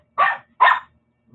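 Pet dog barking indoors, two sharp, close barks about half a second apart, followed by a faint start of a third, with no talking over them.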